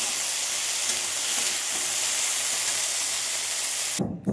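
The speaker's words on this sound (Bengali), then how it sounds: "বেগুনটা হালকা ভেজে নিয়ে আমি তার উপর শিমগুলো দিয়েছি, ভালো করে ভেজে নেবো এগুলো।" Eggplant and beans frying in a pan, a loud, steady sizzle and hiss close by that cuts off abruptly near the end.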